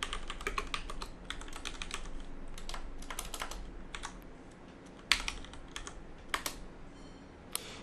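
Steady, rapid clacking of a computer keyboard while typing terminal commands for setting up a VPS or DIY NAS, with bursts of keystrokes and a few louder key hits, close and alone.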